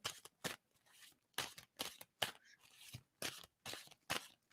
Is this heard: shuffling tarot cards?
yes